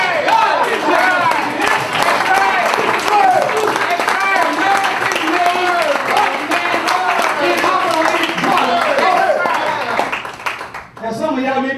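An audience at a speech claps and cheers in a loud, dense burst, with shouting and chatter mixed through the applause, before it breaks off near the end.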